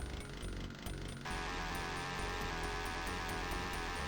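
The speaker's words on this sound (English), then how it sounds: "now we get to hear how the sound pitching ruined the sound of the chainsaw" A buzzing, droning chainsaw from the DOS version of Doom, warped by pitch-shifting, runs continuously with a sharp change in tone partway through and no talk over it.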